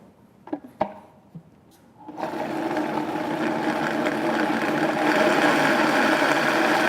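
A countertop blender whirs steadily as it purees a creamy white bean dressing, starting after a few light knocks and clatters and then running as a loud, continuous motor drone that grows slightly stronger toward the end.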